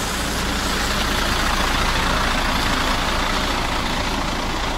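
A truck engine running steadily at idle, a loud, continuous low rumble close by with no change in pitch.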